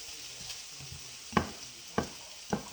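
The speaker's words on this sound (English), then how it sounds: "I'm just sauteing, I guess a large onion, some green peppers, red peppers, and yellow peppers" Sliced large onion with green, red and yellow peppers sauté in a pan with a soft steady sizzle, broken by three sharp clacks of stirring near the end, close and without talk.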